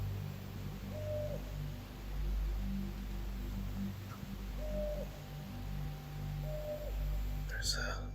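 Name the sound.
owls calling at night in the distance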